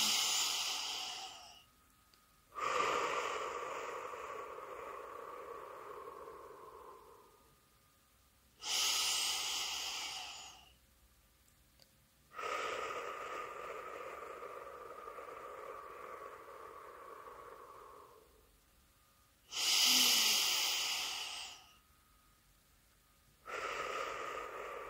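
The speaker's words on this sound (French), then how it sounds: "respirez 3 fois profondément" Slow, deep breaths during a guided active meditation, each long airy inhale followed by a longer exhale, repeated in three even cycles with short pauses between, close and clear with no talking.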